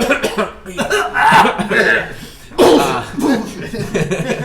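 Several people cough and clear their throats in short bursts, mixed with some chuckling and talk nearby.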